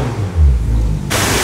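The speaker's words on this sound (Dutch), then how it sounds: "Uitzetten die motor. Nee, maar het klinkt gewoon te hard." A car engine runs loud and close, with a low rumbling drone and a slight rise in pitch as it revs, ending in a burst of broadband noise.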